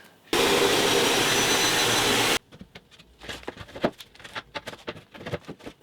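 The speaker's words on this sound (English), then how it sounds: "And I'll fetch my trusty saw." A saw cuts through a floor board in one loud, steady burst of about two seconds, then stops, followed by uneven knocks and clatter nearby.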